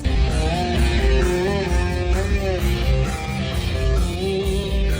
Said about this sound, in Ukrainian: Це бандура, народ.